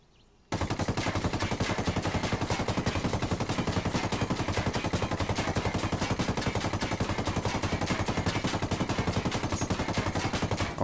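Sustained rapid automatic gunfire in Ghost Recon Wildlands, a long unbroken burst of about a hundred rounds hammering an armored vehicle, loud and close with steady rhythm and no talk.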